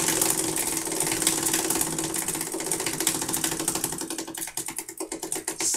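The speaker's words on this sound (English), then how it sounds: "we'll spin the wheel" A prize wheel spins at a sports card break, a rapid run of ticking clicks that slows toward the end into separate ticks, loud and close.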